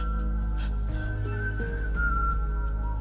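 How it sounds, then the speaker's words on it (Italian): A clear, sustained whistled tone glides slightly in pitch over a steady low background hum, with faint scattered clicks. "C'è qualcuno che fischia?"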